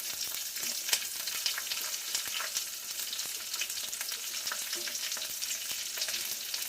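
Dried red chilies and garlic fry in oil, a continuous close sizzle dotted with small crackles and pops, moderately quiet and without voices.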